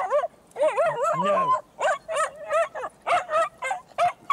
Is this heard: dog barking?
yes